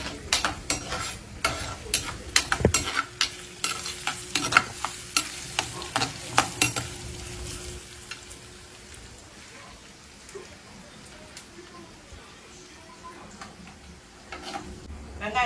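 Fenugreek, mustard seeds and onion frying in a pan for a dried-anchovy curry: crackling, popping seeds and sizzling oil under repeated stirring clicks, busy at first, then settling into a quieter steady sizzle.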